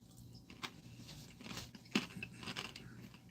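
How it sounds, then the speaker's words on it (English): A single crunchy bite into food followed by chewing, close and fairly quiet, with soft crackles over a steady background hum and no talking. "Well, that was a crunchy bite."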